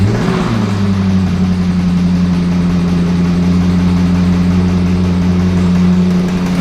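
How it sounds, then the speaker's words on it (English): A car engine running badly, revving up then holding a loud, rough, steady drone with a droning low hum and uneven mechanical roughness throughout, close and continuous without any talk. "That engine should definitely not sound like that."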